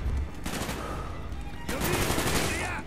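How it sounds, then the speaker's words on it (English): Rapid automatic gunfire in the video game Call of Duty: Black Ops, coming in two dense, loud bursts of rattling shots with a short gap between them. "Do I shoot this guy?"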